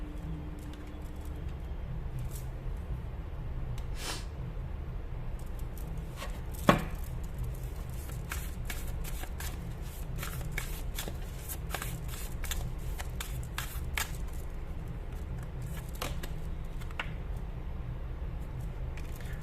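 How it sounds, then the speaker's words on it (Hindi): Tarot cards being drawn and laid out one by one on a surface, producing soft, scattered card slaps and shuffling flicks over a steady low room hum, with no one speaking. "मैं सारे कार्ड्स इस तरीके से निकाल रही हूँ"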